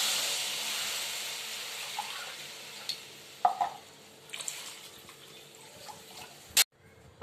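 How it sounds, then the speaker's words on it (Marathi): Water pours into a hot pan of tempering spices with a hissing sizzle that fades, followed by scattered stirring clinks and a sharp metallic knock. "त्यात मी दोन अडीच पेले पाणी टाकते आता"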